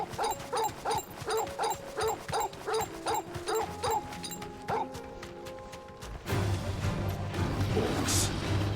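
A dog in the Final Fantasy XVI video game gives a steady series of evenly spaced barks and yips, followed by in-game ambience and a swell of background sound.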